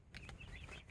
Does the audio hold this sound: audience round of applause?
no